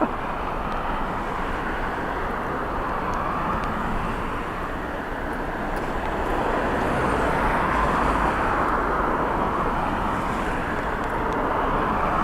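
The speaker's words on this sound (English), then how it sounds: "The Iceland Air 321 Neo TF IAA on the way." An Icelandair Airbus A321neo approaching to land at Dublin Airport, a steady, broad engine roar that holds loud and constant throughout, heard from the ground at a distance with no voices.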